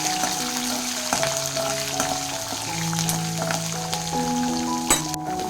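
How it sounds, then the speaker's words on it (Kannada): Curry leaves and green chillies frying in a pan for paddu chutney give a steady, close sizzle and crackle, with occasional stirring clinks and a faint tonal hum underneath. "ಕರ್ಬೇವಿನ ಸೊಪ್ಪು ಹಾಕೋಬೇಕು. ಅದು ಚೆನ್ನಾಗಿ ಫ್ರೈ ಮಾಡ್ಕೊಳ್ಳಿ."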